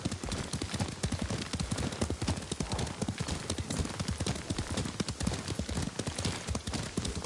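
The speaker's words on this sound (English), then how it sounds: "Lord Sakai taught me to ride a horse." Horse hooves clip-clop steadily at a riding pace in the Ghost of Tsushima video game, a dense, continuous rhythm of close, loud footfalls with no talking over it.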